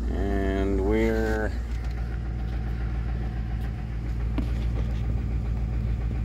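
A 5.4-liter Triton engine idles on a cold start with 5W-30 fully synthetic oil and no fan running, giving a steady low, close rumble throughout, with a brief tonal sound near the start.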